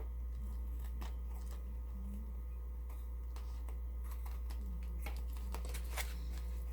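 Scissors snip through a junk journal cover as it is trimmed, giving quiet, crisp, irregular cuts close up over a steady low hum, with no talking.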